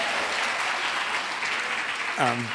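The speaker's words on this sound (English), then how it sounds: "we can get applause for that" Audience applause at a panel event on the economics of being single, a steady wash of clapping throughout, with a voice cutting in near the end.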